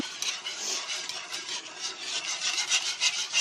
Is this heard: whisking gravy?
yes